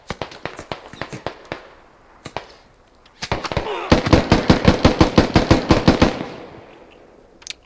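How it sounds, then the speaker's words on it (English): Rapid automatic gunfire in the tactical shooter Squad, starting with scattered shots, then a long, loud, steady burst of closely spaced rounds before tapering to a single late shot. "Bit of panic shooting."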